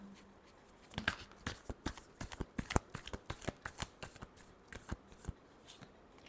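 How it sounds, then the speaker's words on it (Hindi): Tarot cards being shuffled by hand, a quick run of crisp riffling snaps and flicks with uneven rhythm, close and fairly quiet, with no voice over them. "Last shuffle."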